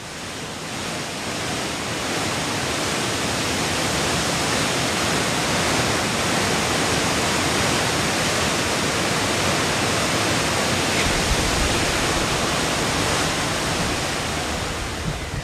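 Waterfalls in a cold, rainy Chilean forest pour in a loud, steady, broadband roar that holds unchanged throughout, with no voices.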